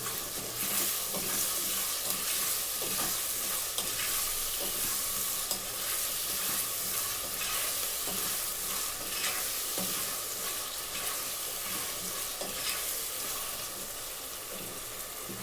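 Spoon stirring potato and okra curry in a hot pan, sizzling and frying with repeated scraping and clinking strokes, close and fairly loud.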